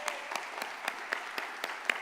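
A church congregation claps during a sermon, a thin, steady patter of applause heard at moderate distance with no talk over it.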